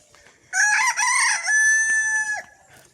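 A rooster crows once in a village morning, a full, close cock-a-doodle-doo lasting about two seconds that stands alone over quiet background.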